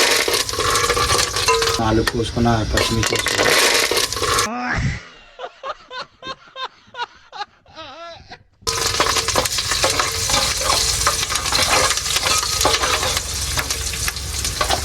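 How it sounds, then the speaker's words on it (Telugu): Curry leaves and green chilies hitting hot oil while cooking on a truck: loud, dense crackling sizzle, broken midway by a few seconds of quieter pulsing vocal sounds before the roaring fry resumes. "మనం నూనె బాగా కాగిన తర్వాత ఫస్ట్ కరివేపాకు, 4 కోసుకున్న పచ్చిమిర్చి వేసుకోవాలి."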